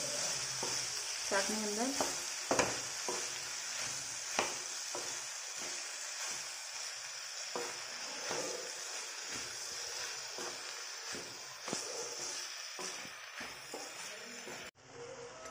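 Green onions and potatoes sizzle steadily in a pan while a spoon stirs them with repeated scraping strokes, close and continuous, and a voice speaks briefly over the cooking.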